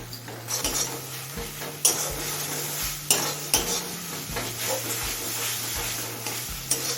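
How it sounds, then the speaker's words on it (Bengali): Spice masala for chhana tadka frying on high flame, a steady sizzle punctuated by regular metallic scrapes and knocks of a spatula stirring against the pan, close and fairly loud with no voices. "সমস্ত মশলা মিশিয়ে নিয়েছি এবার হাই ফ্লেমে কিছুক্ষণ কষিয়ে নেব"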